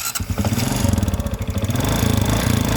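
A motorcycle engine idles loudly and steadily up close, with a rapid mechanical ticking from the engine running through its rhythmic chug.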